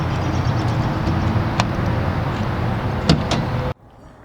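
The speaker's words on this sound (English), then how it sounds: "So let's pop the hood." On a 2012 Ford Fusion with the 2.5 liter engine, the hood release pops with a few sharp, close clicks over a steady background hiss, then everything cuts off abruptly.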